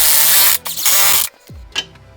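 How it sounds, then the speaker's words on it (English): A hand ratchet driving strut bolts home on a 2006 Chevrolet HHR suspension, loud close bursts of fast clicking in two runs, then a short clank of metal and a brief tool sound. "I'm going to put these 2 bolts in here with the caps and just drive them home"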